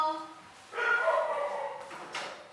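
A dog barks and yips in a short, whiny burst, fairly close, with a voice nearby.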